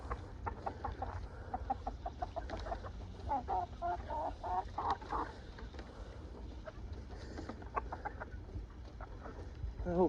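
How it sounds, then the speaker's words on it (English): An American Bresse hen and a White Leghorn rooster in a chicken tractor cluck and chatter steadily throughout, with soft, overlapping calls at moderate distance over a low background hum. "My American Bresse hen. And there's the big rooster. White leghorn rooster."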